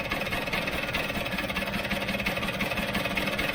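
A Vespa GS scooter engine idles with its airbox off, ticking over in a fast, even, close-up putter with a slight rattling vibration throughout.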